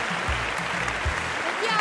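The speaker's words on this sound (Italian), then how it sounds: "Gli applausi sono gratis." Crowd clapping at the Cantagiro 2023 first evening, continuous even applause throughout, with a brief low voice underneath.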